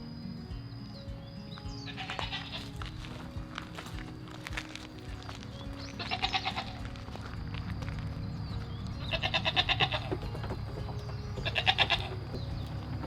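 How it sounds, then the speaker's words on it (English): Two male goats on an off-grid homestead in Hawaii bleat in four loud, drawn-out calls spaced a few seconds apart, over a constant electrical hum. "Two male goats."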